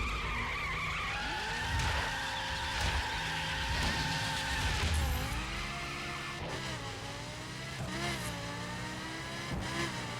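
Several identical cars race in The Crew, engines droning steadily with rising revs and repeated tire skids and squeals over about ten seconds, loud and close with no talking.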